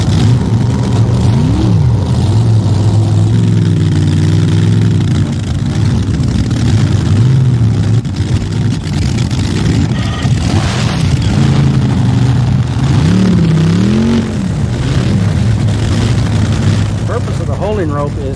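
Racing boat engines at a drag boat event, a loud sustained roar with rising and falling revs and deep low rumble throughout, while a voice talks over it.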